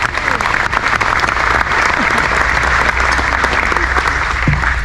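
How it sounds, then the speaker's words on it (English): A crowd at a bass fishing hall of fame event gives a loud, dense round of applause that carries on steadily without a break. "Another round of applause for Pat Donahoe"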